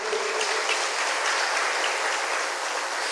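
A church congregation claps together in praise, a dense, steady wash of applause that fills the room evenly from start to finish.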